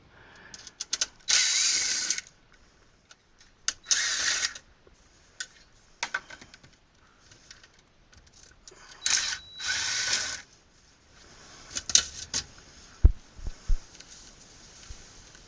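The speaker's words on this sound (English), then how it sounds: "I should be able to just flip the damper over, take the screws out, flip the damper over, and screw it back in." Screws being backed out of a furnace zone bypass damper, giving intermittent ratcheting and metallic clicking bursts separated by short pauses, fairly close and moderately loud, with no talking.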